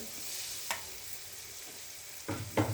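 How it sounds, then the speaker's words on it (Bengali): Pitha flour batter fries in hot oil with a steady, close broadband sizzle, broken by a few soft thuds and spatters as more batter goes in near the end. "এখন আমি পিঠের আটাটা দিয়ে দিচ্ছি চুলে তেলের ভিতর"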